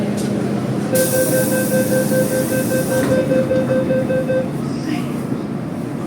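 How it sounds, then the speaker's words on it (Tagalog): Inside a train carriage, standing by the door: a steady, loud rumble of the moving train with a sustained tonal whine that fades out after a few seconds, then continuous running noise. "This is standby from the train door."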